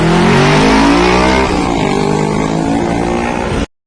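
A powerful superbike engine revs loudly and continuously, a dense roaring snarl that holds steady for several seconds before cutting off abruptly.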